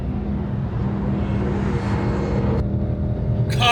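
Ford Mustang GTD on a track, its engine droning steadily from inside the car as it keeps pulling at high speed, with a sudden shift in tone near the end.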